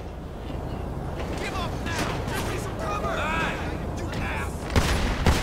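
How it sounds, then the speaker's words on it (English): Gunfire crackles through a GTA 5 PC police-mod shootout, bursts of shots sounding amid steady game noise and someone talking, with a sharper, louder volley near the end. "Why are they shooting him?"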